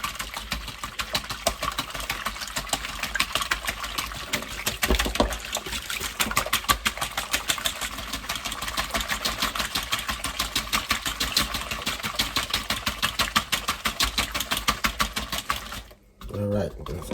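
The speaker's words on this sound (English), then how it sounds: "I have 2 eggs and I'm going to beat them pretty well with a whisk here" Two eggs beaten hard with a wire whisk in a bowl make fast, continuous, regular clicking and tapping that keeps going for many seconds before stopping abruptly near the end.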